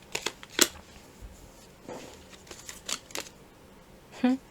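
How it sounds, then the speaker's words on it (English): Tarot cards being flipped over one by one, a few sharp close papery snaps and slides spaced apart, against a quiet room. "I have to flip these cards"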